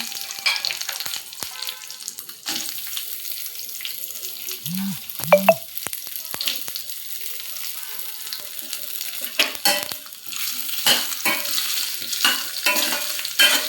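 Potatoes and curry leaves frying in a pan, a continuous close sizzle with scraping stirs and occasional clinks of a utensil against the pan.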